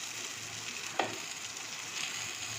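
Khichuri ingredients fry steadily in hot oil over a low gas flame, a soft continuous sizzle with a single sharp scrape of stirring partway through.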